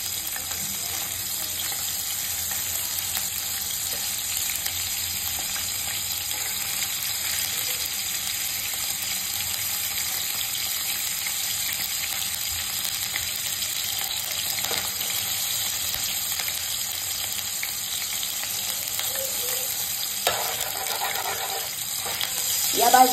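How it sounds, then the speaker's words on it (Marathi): Peas and paneer fry in an open pan with a steady, even sizzle that runs unbroken for the whole stretch, with a faint clink near the end. "ह्याच्यामध्ये मटर टाकले, पनीर थोडंसं भाजून घेणार आहे"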